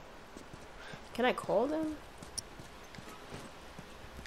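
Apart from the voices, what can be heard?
horse hooves in the video game The Last of Us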